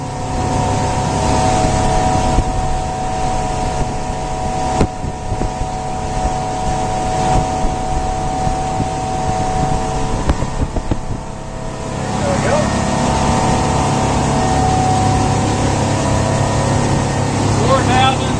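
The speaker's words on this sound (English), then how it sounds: "wide open throttle. We're doing 30 knots." A 1999 Sea Ray 270 Sundancer's engine roaring at wide open throttle near 30 knots, loud and sustained with water and wind rush, while someone talks over it.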